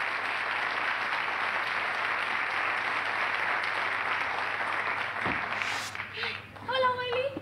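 An audience claps loudly and continuously for a troupe of performers, a dense steady roar that breaks off near the end as a voice begins.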